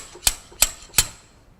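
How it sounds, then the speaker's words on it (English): Three sharp metallic knocks from a slide hammer pulling out a transmission seal, evenly spaced and close, with quiet between each strike. "gently slide hammer out the seal."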